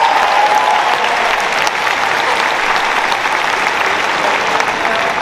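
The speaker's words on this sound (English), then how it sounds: "Please give them all a round of applause." Arena audience at Gill Coliseum, Oregon State University, giving loud, steady applause that fills the space for several seconds and fades slightly near the end.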